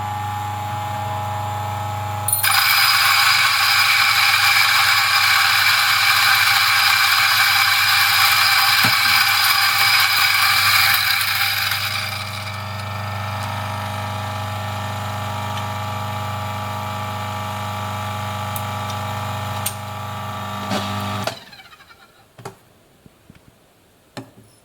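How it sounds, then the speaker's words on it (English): A DF54 coffee grinder set to 50 grinds coffee beans with a loud, steady mechanical whir that runs for about ten seconds. A lower, continuous motor hum follows, then it stops and a few small clicks are heard. "I'm going to grind this and leave it in for tomorrow"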